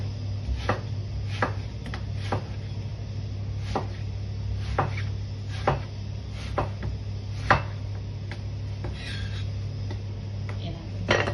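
A knife chops food in a home kitchen during dinner preparation, cutting into a board with a dozen or so irregular, sharp knocks over a steady low hum, fairly close and moderately loud.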